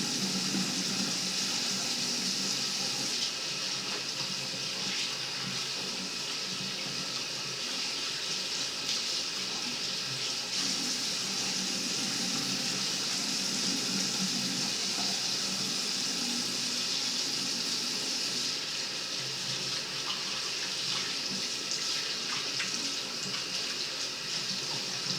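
Hot tap water runs steadily into a sink, a continuous close hiss and splash holding at an even level for the whole stretch, with no talk over it.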